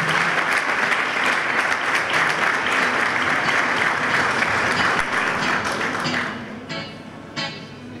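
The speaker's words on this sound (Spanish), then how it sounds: "Que sea vivo ese aplauso porque han sido los que sostuvieron a todos los alumnos" School anniversary ceremony audience giving sustained, dense applause close up, the clapping thinning out and tapering into scattered claps toward the end.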